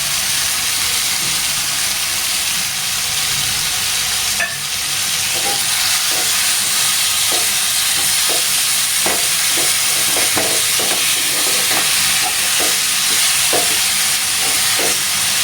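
Baingan bharta with crushed peanuts and green chilies sautéing in a pan, a constant close sizzle with repeated scrapes and taps of a spatula stirring, no voices.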